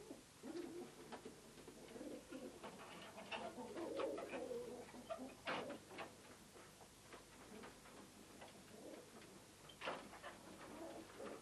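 Racing pigeons at a loft, heard as soft cooing and scattered clicks and wing taps, fairly faint and intermittent against a quiet background.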